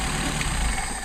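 An engine fitted with a Solex carburetor idles with a steady, low, rumbling drone. The idle sounds close and even, with nothing else over it.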